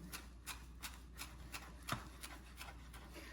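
A knife chops fresh cilantro on a cutting board in a quiet home kitchen, with about ten soft, evenly spaced taps ringing out close by and one slightly sharper knock partway through.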